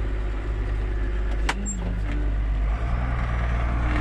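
A YUMZ-6 tractor ploughing the last unploughed village garden plot, labouring uphill: a steady, loud low engine drone that holds throughout, with a faint brief knock partway through.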